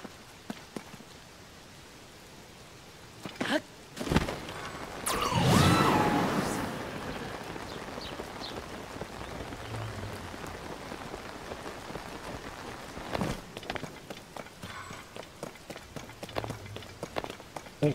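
Steady rainfall in the video game The Legend of Zelda: Tears of the Kingdom, a soft constant patter of drops on surfaces, broken by footsteps, a whoosh and a few thumps, with no talking.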